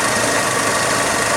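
The engine of a 1929 Ford Model A Roadster runs steadily, reportedly fitted with a modern alternator, a loud continuous mechanical hum heard close up with no voices.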